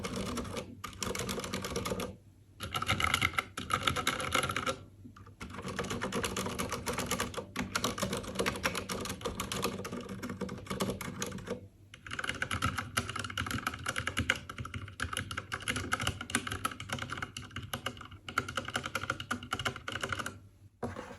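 Rapid, steady typing on a Ducky 60 percent mechanical keyboard, dense clacking keystrokes with a few brief pauses, close and fairly loud.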